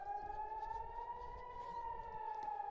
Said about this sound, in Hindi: अब एक बार फिर से सायरन बज गया है।